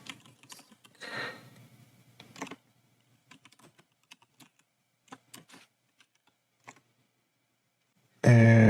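Keys tapped on a computer keyboard, close and fairly soft, coming in short irregular bursts separated by quiet gaps before a loud burst of noise cuts in at the end.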